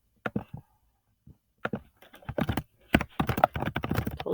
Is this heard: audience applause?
no